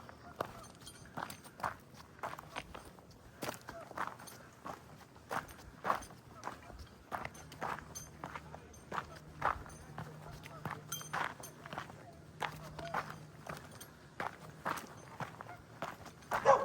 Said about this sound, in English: let's go down the steps